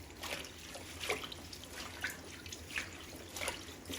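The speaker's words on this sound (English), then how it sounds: "So I just pour it into a sink of cold water and give it a good wash." Broccolini washed by hand in a sink of cold water, with close, irregular splashes, drips and sloshes, several distinct watery bursts over a few seconds and no talk.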